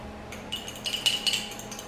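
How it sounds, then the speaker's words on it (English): A spoon clinks lightly against a jar while egg is mixed into maple syrup, a few quick close taps and scrapes with no talking. "we'll go ahead and add the egg and just mix it up"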